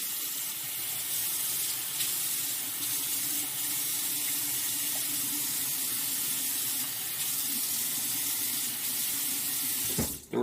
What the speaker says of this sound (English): I'm going to rinse all that stuff out of there and use that juice too